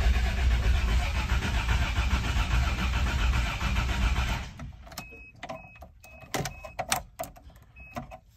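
A Toyota FJ62 Land Cruiser engine cranks fast and steady for about four and a half seconds, then cuts off, leaving scattered clicks and faint beeps nearby.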